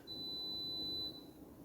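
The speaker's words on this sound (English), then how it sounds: "that beep you heard was the government subsidized water saving washing machine" A single sustained electronic beep from a government-subsidized water-saving washing machine in an apartment, holding one steady high tone for about a second before cutting off, then faint room noise.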